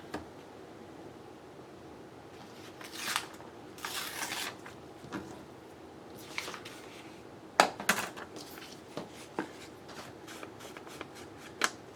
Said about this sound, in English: I feel like this edge needs to be torn.